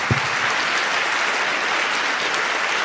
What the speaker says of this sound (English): a round of applause for all of you all